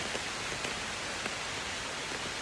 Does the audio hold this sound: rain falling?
yes